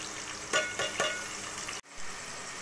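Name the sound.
onions frying in hot oil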